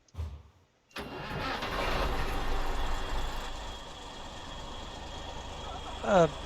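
A truck engine in the SnowRunner game, Amur Region, cranks after a moment of quiet, catches and settles into a steady, rumbling idle, with a brief higher whine near the end.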